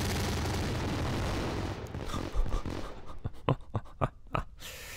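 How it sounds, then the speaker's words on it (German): Rapid bursts of popping fireworks explosions in the video game My Summer Car crackle and bang in quick succession, a dense barrage thinning into scattered sharp blasts. "Feuerwerk läuft"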